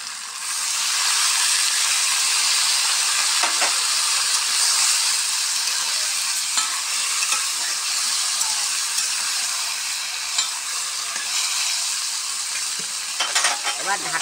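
Water poured into a pan of frying pumpkin and fish head in a Bengali home kitchen, a loud burst of hissing sizzle that holds steady close up, with a few faint clicks of utensils.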